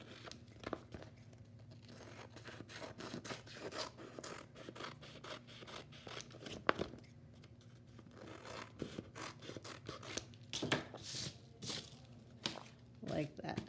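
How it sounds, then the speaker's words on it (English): Scissors trim the overhanging edges of a paper art piece, quick crisp snips and crinkling paper rustles in an irregular close sequence, with a voice speaking intermittently alongside. "you can go ahead and trim wherever you went off your page"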